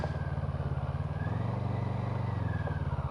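A CF Moto MT650 Chinese motorcycle runs steadily close by, its engine giving a continuous low, even throb with faint wind and road noise and no clear revving.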